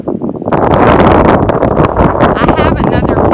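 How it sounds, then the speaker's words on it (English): Strong gusts buffet the microphone during an outdoor walk, a loud, rumbling roar with rustling that persists throughout, partly under a person's voice. "Ooh, it's windy."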